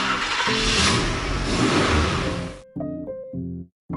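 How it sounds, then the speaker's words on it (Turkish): A car engine roars and revs loudly, then cuts to a few shorter engine bursts with brief gaps of silence toward the end. "Arabaların sesi böyledir."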